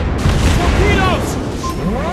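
Torpedo hits from a Pan-Asia destroyer battle in World of Warships Blitz, a loud rumbling boom with sustained low blast noise, overlaid with game sound effects and whistling tones.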